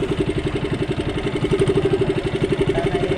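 Engine running steadily at idle with a loud, close, rhythmic pulsing throb and a slight rise in level midway, heard alone without talk.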